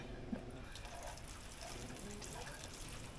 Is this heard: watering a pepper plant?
yes